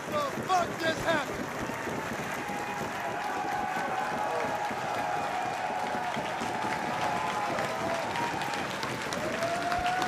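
A wrestling crowd at a Beyond Wrestling tag match cheers and roars excitedly in a dense, sustained wash of noise, with a few shouts and whistles cutting through near the start and no break in the din throughout.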